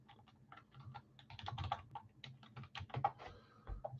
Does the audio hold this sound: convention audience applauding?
no